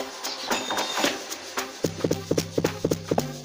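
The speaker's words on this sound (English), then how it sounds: "the other FX I used here is the long mixer" Long mixer effect in an FL Studio Mobile amapiano beat: a hazy sustained wash at first, then a run of quick pitched percussive stabs in a syncopated pattern, close and with no voices.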